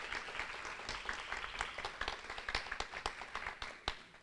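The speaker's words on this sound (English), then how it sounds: "And probably one more round of applause for all of you." Audience applause at a nursing school white coat ceremony: a steady crowd of hands clapping throughout, dense and continuous, with a few sharper individual claps standing out toward the end, moderately distant.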